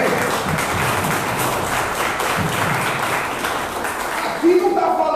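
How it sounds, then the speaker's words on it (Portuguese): A church congregation gives a sustained round of applause, steady and fairly loud, with voices mixed in and a brief sung or spoken tone near the end. "Para o nosso Senhor Jesus, uma linda salva de palmas"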